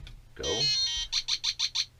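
A short electronic tone followed by five evenly spaced high beeps from a ProCom SEQ 4.5-volt programmable toy brick, close and clear.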